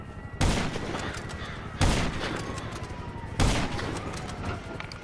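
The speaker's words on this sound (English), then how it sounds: "In the number 3 spot is TLKOG with an extremely long range snipe on a buzzard pilot" Three loud sniper rifle shots ring out at evenly spaced intervals in GTA Online, each a sharp crack trailing into a rumbling echo over steady background noise.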